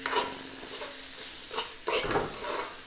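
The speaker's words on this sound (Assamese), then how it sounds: "শুকানকৈ ভাজি পেলাম আৰু" Bitter gourd seeds frying with spices in a pan, with a low sizzle and repeated scraping stirs of a utensil against the metal, in uneven bursts close by.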